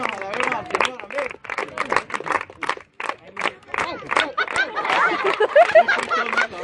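A congregation at a youth group campfire gathering claps hands in praise, quick rhythmic clapping mixed with loud singing and shouting voices, fairly close and lively throughout.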